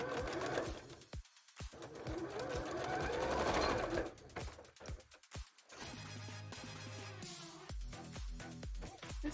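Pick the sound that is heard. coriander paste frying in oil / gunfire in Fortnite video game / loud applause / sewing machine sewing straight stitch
sewing machine sewing straight stitch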